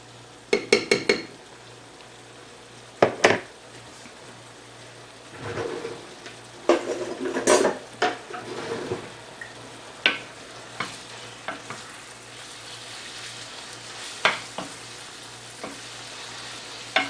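Nachos browning in a pan over a campfire, with sharp clanks and scrapes of a utensil stirring the food. The strokes come in irregular bursts over a steady low sizzle, fairly close, with no voices.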